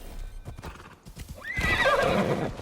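A horse in the video game Assassin's Creed Shadows clip-clops with several hoofbeats, then lets out a loud, drawn-out neigh up close that fills the second half.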